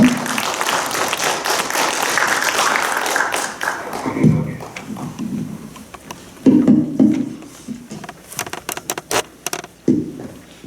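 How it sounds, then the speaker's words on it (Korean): A seated audience applauds to welcome the director of the Bucheon Cultural Center at a formal indoor event: dense clapping for about four seconds, then thinning into scattered individual claps and taps. "박수로 맞아주시기 바랍니다"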